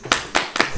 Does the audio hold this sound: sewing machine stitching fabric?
no